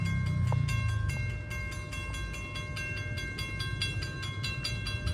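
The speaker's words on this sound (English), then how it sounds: "Nope, we got a CSX train coming." A southbound CSX freight train passes on the line, with a loud continuous rumble and a rhythmic clatter of wheels over rail joints, steady and close with no talking.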